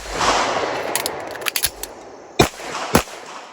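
Several sharp CZ 75 SP-01 handgun shots crack at an outdoor range: a loose cluster of quick pops, then two louder, distinct reports spaced about half a second apart, with faint background noise between them.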